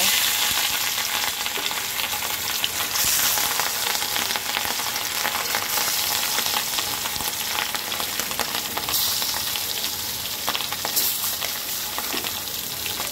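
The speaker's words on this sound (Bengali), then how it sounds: "এখন আমি মাছগুলো দিয়ে দেব আর সুন্দর করে মাছগুলো ভেজে নেব।" Pieces of catla fish fry in hot oil in a pan, giving a loud, dense and continuous sizzle with occasional stirring and spatula scrapes, close and without talk.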